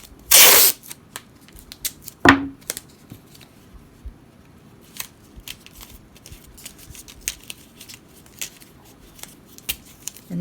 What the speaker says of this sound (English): the next step is to wrap tape around the ends of the tape that run vertically